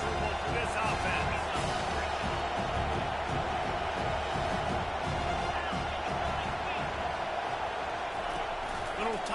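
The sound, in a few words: stadium crowd noise at a football game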